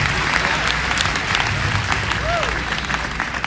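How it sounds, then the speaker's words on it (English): Audience applause at a 1993 public address, a steady dense wash of clapping from a large crowd sustained throughout, fairly loud and close, with some faint voices mixed in. "Give him a round of applause just for doing that for all of you around the nation."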